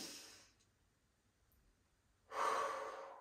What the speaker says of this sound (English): we're going to take a deep inhale and expand that rib cage